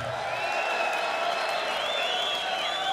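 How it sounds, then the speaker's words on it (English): Arena crowd at a boxing ringside applauding and cheering a Hall of Fame broadcaster, a steady dense roar of clapping and whoops lasting throughout. "A round of applause for the new member of the Boxing Hall of Fame, HBO's own Gentleman Jim Lampley."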